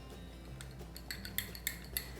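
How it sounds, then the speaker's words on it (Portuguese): A spoon clinks lightly and repeatedly against a cup or bowl while cornstarch is stirred into water, a quiet run of small metallic taps that grows slightly sharper toward the end. "Vou misturar bem aqui para esse amido dissolver."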